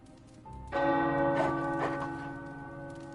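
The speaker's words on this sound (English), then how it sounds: "The tower bells are ringing." Tower bells ringing inside the video game Marvel's Midnight Suns, a single soft tone followed by a loud, sustained clang with rich ringing overtones that slowly decay, close and with no talk.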